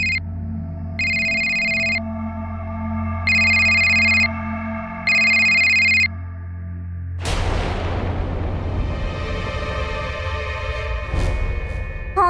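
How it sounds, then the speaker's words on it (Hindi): A telephone rings in four evenly spaced electronic bursts over a low drone, then a loud dramatic boom and reverberating crash take over the rest of the scene. "कहीं से फोन की घंटी।"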